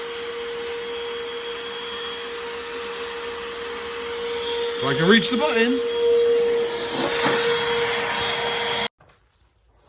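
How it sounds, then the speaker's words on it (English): A vacuum cleaner runs steadily while cleaning a car interior, a constant whine with rubbing and a brief voice over it, then cuts off abruptly near the end. "Turn off the vacuum."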